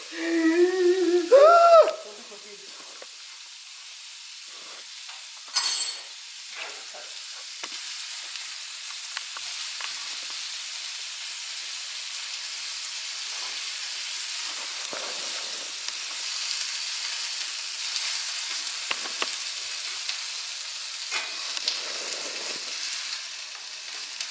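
Shrimp and grits sizzle steadily in a hot pan during deglazing, a continuous close hiss of frying with a few brief clinks and louder steam bursts near the start.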